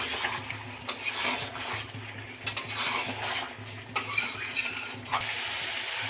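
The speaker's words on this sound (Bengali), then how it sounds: "ভালোভাবে নেড়ে চেড়ে মিশিয়ে নেব।" Chicken curry being stirred and sautéed in a pan, a spoon scraping and clattering against the metal in repeated strokes over a steady low sizzle, close and fairly loud with no talk.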